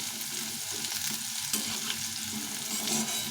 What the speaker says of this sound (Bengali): আলুটাকে একদম ভালো করে ভেজে নিতে হবে